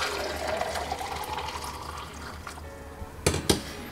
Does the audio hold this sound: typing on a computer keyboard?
no